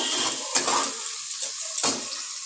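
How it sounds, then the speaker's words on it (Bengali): Onions fry in hot oil for a cauliflower-potato curry, giving a close, steady sizzling hiss broken by a few soft stirring scrapes. "এবার আমি পেঁয়াজগুলোকে ভেজে নেব, ভালো করে লাল লাল করে পেঁয়াজগুলোকে আমি ভেজে নেব"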